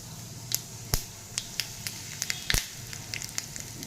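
Cumin seeds and asafoetida spluttering in hot ghee in a small tadka pan for mixed dal: sharp crackling pops scattered over a steady close sizzle, with no voices.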